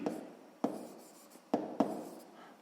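Handwriting during a sixth-grade math exercise: a pen scratches across paper close by in a few short strokes, with soft rubbing in between and no voices.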